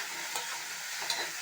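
Elephant foot yam and tomato sautéing in a little oil for a low-oil gravy, a faint continuous sizzle with a couple of soft stirring scrapes.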